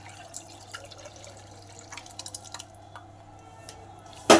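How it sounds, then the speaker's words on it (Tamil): Dissolved urad dal mixture poured through a strainer into a clay pot, making soft, irregular drips and trickles close by over a low steady hum, ending in a louder splash; no talking. "இப்போ அந்த கரைச்சி அதை வந்து வடிகட்டிடலாம்"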